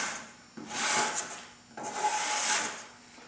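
A wooden kayak piece is sanded or planed by hand in two long, close rasping strokes of abrasive rubbing on wood, separated by a short pause, with no talking.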